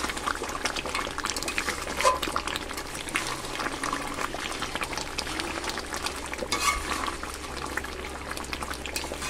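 Riyaji mutton curry simmers in a pot with a steady bubbling, sizzling hiss at moderate level, with occasional faint clinks of a spoon and no voices.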